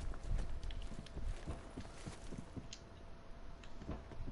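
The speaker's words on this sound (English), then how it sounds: "Your teammate's footsteps should not be that loud." A teammate's footsteps in the video game Call of Duty Black Ops 4, loud and close, a steady run of thudding steps across the whole stretch.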